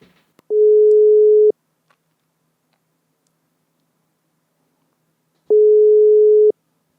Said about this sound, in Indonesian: coba telepon Simon kayak apa pendapat dia